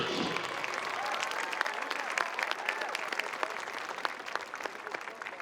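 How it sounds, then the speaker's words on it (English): Crowd applause at a high school football game for the junior members of the homecoming court, a broad sustained clapping from the stands with scattered crisp claps, heard at some distance and fading slightly toward the end. "Let's have a round of applause for your junior members of the court."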